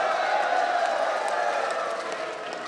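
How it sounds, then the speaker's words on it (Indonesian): A debate hall audience at a 2015 regency head candidate debate in Kutai Barat applauds and cheers a candidate, a dense steady wash of crowd noise that holds loud throughout and eases slightly toward the end. "mari kita memberikan tepuk tangan untuk kandidat nomor 4"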